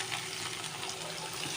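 Garlic and ginger fry in a pan for a Goan potato bhaji, giving a steady, close, continuous sizzle and crackle with no talking.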